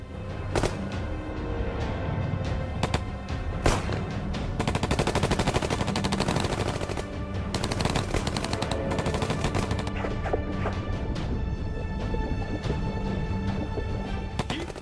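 Sustained, loud machine gun fire at prisoners in the water, rapid rattling bursts that run almost unbroken for about fifteen seconds with sharp individual cracks on top.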